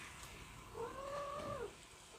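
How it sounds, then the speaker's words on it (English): A male cat gives a single drawn-out meow, nearby but fairly soft, over low background hiss. "I have a male cat that's ornery."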